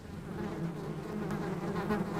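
A steady, close buzzing of bees, continuous and fairly loud throughout with no speech.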